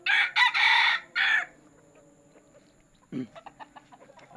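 A backyard gamefowl rooster crows loudly close by, a long drawn call, followed after a pause by a few short, low clucks.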